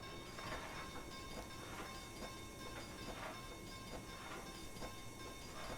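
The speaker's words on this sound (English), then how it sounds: "one of the more unique of steam locomotives made available for North America" A steam-hauled train in the video game Train Simulator Classic rolls steadily with rhythmic clickety-clack of wheels and a low rumbling drone, fairly quiet and uninterrupted throughout.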